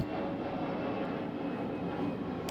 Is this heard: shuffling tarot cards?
no